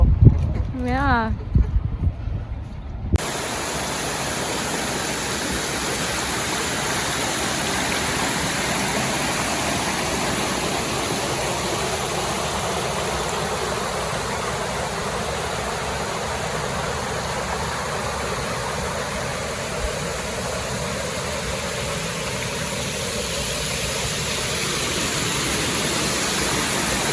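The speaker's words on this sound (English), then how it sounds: "I'm at the top of a waterfall." A New Zealand waterfall roars as a steady, loud, broadband rush, heard from its top, with brief speech at the start before the water noise continues alone.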